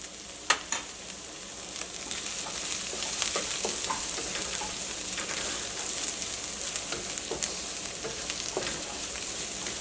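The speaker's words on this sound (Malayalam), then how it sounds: "മഞ്ഞൾപ്പൊടി ചേർത്ത് കഴിഞ്ഞിട്ടുണ്ടെങ്കിൽ ഇതേപോലെ ഇങ്ങനെ ഇളക്കിക്കൊണ്ടിരിക്കുക." Ivy gourd curry with turmeric is stirred in a pan, a steady frying sizzle punctuated by repeated scraping and clicking of a spoon, loudest at the start.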